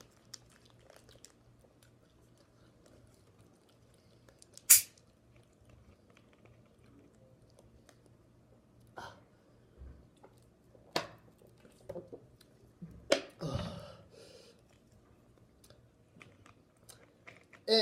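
Sour Patch Kids Fire and Freeze candy being bitten and chewed up close, with scattered crunches and soft squishy chews separated by quiet pauses, growing busier toward the end.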